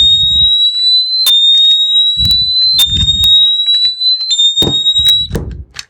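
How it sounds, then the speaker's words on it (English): An ABUS Bordo Big Plus folding link lock sets off its 100 decibel alarm, a loud, steady high-pitched electronic tone that shifts pitch slightly in steps, with occasional clicks and low thumps from handling. "So you got a 100 decibel alarm that's going to go off for about 20 seconds"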